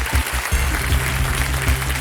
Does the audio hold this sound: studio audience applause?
yes